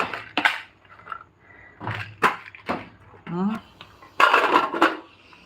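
Haleem being stirred in a pot, with clanking and scraping of a utensil against metal in bursts, heard close and loud alongside someone talking.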